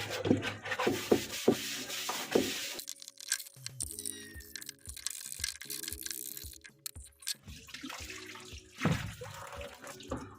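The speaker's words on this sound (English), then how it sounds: "I will clean the washer's inner and outer drum as it has a lot of soap scum built on its surface" Scrubbing soap scum from the inner and outer drums of a disassembled front-load washing machine, with repeated rough rubbing strokes, running water and rhythmic brushing that pauses and resumes, moderately close.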